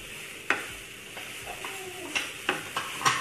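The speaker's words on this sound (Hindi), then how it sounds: "सारे मसालों के साथ और मूली के साथ हम यहाँ मिक्स कर देंगे" Grated radish being stirred and mixed with salt and spices for mooli paratha filling, a series of soft scraping and clinking strokes against a bowl with a faint sizzle-like hiss beneath, no voices.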